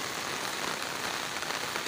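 Steady rain pouring down over a corn farm, a dense even hiss of drops with no voices, constant and moderately close throughout.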